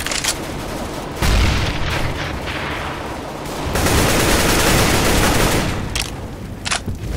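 CS:GO competitive match with loud, close bursts of rapid gunfire, and a heavy boom from a grenade blast partway through. Dense overlapping shots continue to the end with no pause.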